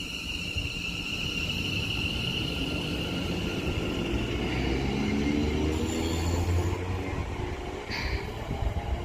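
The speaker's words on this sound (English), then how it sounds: "this West Midlands Railway Class 730 departs for Duddeston now for Walsall" A West Midlands Railway Class 730 electric train pulls out of Duddeston station bound for Walsall, a continuous low rumble and rising motor whine with rolling wheel noise, steady and fairly near, with no voices.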